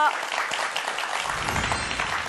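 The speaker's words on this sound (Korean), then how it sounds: "큰 박수로 맞이해 주시기 바랍니다" A studio audience breaks into steady, full applause to welcome a university civil engineering lecturer, a continuous wash of clapping with a voice faintly audible beneath it.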